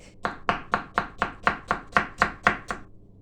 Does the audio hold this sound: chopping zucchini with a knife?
yes